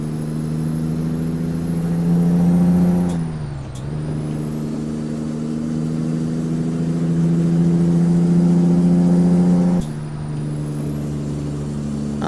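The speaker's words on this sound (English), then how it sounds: "I am shifting through the basement and half stepping on the gears in here." A Peterbilt 389 truck engine in American Truck Simulator drones steadily and loudly, dipping and recovering with each half-step gear change, with a hiss of air between shifts.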